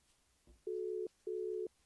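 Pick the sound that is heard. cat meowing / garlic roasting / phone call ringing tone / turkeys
phone call ringing tone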